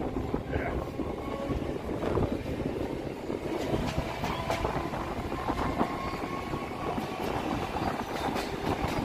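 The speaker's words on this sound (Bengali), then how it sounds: "ট্রেন ছাড়লো বিধাননগর রোড স্টেশন থেকে।" A Majerhat local train pulls out of Bidhannagar Road station, a steady loud rumble of wheels and carriages with rhythmic clacking and wind buffeting throughout, no voices.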